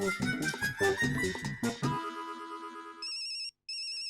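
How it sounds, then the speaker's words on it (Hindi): A phone ringtone starts after a few seconds of other sound, a high electronic trill repeating in bursts with a brief gap between them. "तारा का फोन है."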